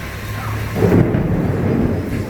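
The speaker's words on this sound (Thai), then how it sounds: "โอ้ ฟ้าร้องดังมาก" A loud, deep roll of thunder swells up close during a heavy storm in Lat Phrao and rumbles on under steady rain.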